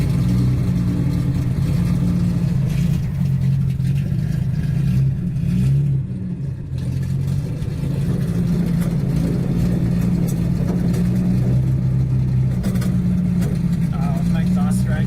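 A Datsun 280Z engine runs continuously and close by, with a steady mid-pitched drone and occasional revving as the car drives, its exhaust dragging.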